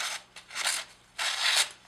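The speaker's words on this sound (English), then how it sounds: "We're now push cutting paper" A serrated knife, freshly sharpened and deburred, push-cuts through paper in two bursts of crisp, dry rasping, close and fairly quiet, with a short gap between strokes.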